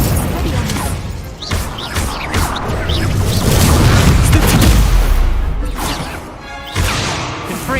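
Fire spells from Hogwarts Legacy blast in quick succession during a fantasy duel, loud whooshing bursts and booming impacts layered with crashing effects, as a voice shouts spell names between them.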